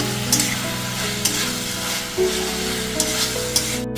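Spiced pointed gourd with yogurt and masala sizzles loudly in a pan while being stirred, a close steady frying hiss broken by a few sharp scrapes of the spatula, no speech.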